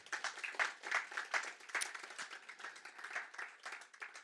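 Applause from a lecture audience at a café-style talk on China, a small crowd clapping steadily in quick uneven bursts at moderate volume, without voices.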